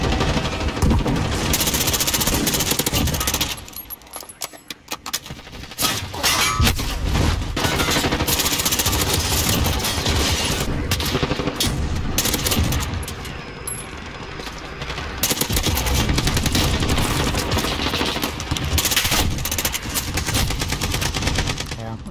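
Rapid gunfire from a Dragunov rifle in a video game, dense and loud throughout, with bursts of shots running almost continuously and a brief lull early on.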